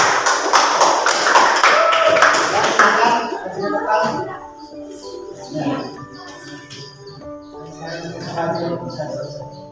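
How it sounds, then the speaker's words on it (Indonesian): A classroom audience claps for a student group about to present during a teaching assessment session. The clapping is brisk and fairly close for about three seconds, then fades as voices take over. "kita kasih tepuk tangan biar tambah semangat"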